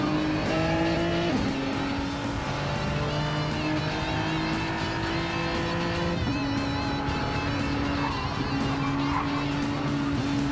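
A race car in a racing video game, with Mustangs in a bunched field, holds a loud steady engine drone that steps up through gear shifts, with faint tire squeal near the end.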